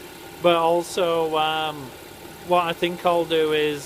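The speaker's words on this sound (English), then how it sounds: "Okay, so sorry about the noise. Running the engine and the gearbox, of course, will be spinning to get it up to temperature for that level check." A VW/Audi car engine idles with its DSG S-Tronic automatic gearbox spinning as it warms up, a low steady hum mostly buried under someone talking close by.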